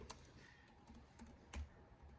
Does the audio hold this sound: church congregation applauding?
no